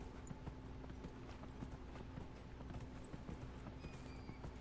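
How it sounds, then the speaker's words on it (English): Hooves of a horse beat in quick clip-clop rhythm as it gallops in the game Dragon Age Inquisition, faint and steady over a constant background hum with no talk. "This is not the best map for the horse."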